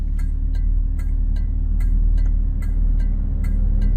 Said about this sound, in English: Love the sound of the blinkers.